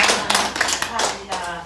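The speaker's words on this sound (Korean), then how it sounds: "박수 한번 해주시면" A church congregation at a Sunday service claps for a newcomer, a short burst of close, uneven hand claps lasting under two seconds.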